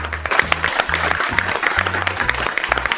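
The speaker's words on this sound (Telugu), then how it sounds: "అలా ఆయన చెప్పేసరికి తల్లిదండ్రులందరూ చప్పట్లు కొడతారు." Parents clapping together at a children's drawing competition, a dense patter of applause running steadily throughout, with low tonal sounds like music or voices underneath.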